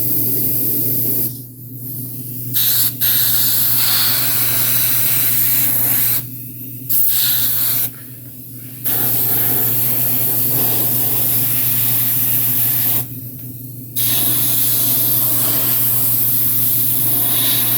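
An airbrush that resists spraying after its needle was refitted sprays paint on a model kit, giving a close, loud continuous hiss that breaks off in several short gaps as the trigger is released and pressed again, with no one talking.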